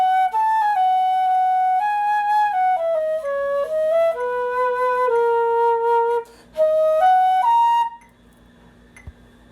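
A wind instrument plays the fourth measure of the first movement of Bach's Sonata 6, a clear solo melodic line of connected notes with a brief breath gap near the end, then silence.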